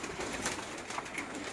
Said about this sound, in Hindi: ये इनके बड़े मशहूर कबूतर हैं जुरे